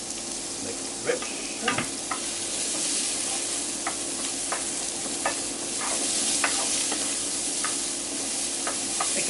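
Leftovers fry in a pan with butter, giving a steady, close sizzle with scattered clicks and taps of stirring throughout.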